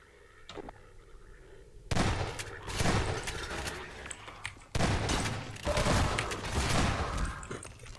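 Enemy soldiers open fire in the video game Cosmonaut, producing two loud bursts of rapid gunfire that each run for a few seconds after a quiet lead-in.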